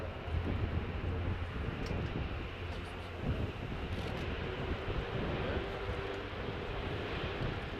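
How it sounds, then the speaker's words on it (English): An Airbus A400M Atlas military transport reversing along the runway at the RIAT 2017 airshow gives a steady, loud broadband roar of turboprop engines with wind buffeting, continuous and unbroken throughout. "And as it reverses, we can see the rear ramp being opened on the runway."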